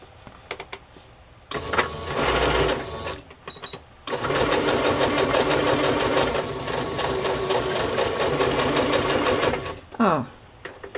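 A sewing machine stitches through patterned paper in two runs, a short burst followed by a longer steady whirring stretch of rapid needle clatter, close up, with quiet handling noises in the pauses.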